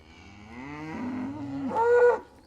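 A cow moos once, long and close, rising into a loud bellow near the end as cattle are herded into a round yard, with no talking over it.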